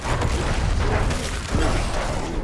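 A loud, rumbling Diablo IV explosion spell fills the clip with dense, noisy booming that swells again midway.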